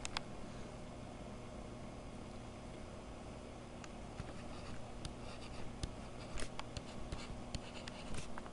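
A pen or marker squeaks and scratches faintly as numbers are written on a board, with short strokes and taps over a steady background hum.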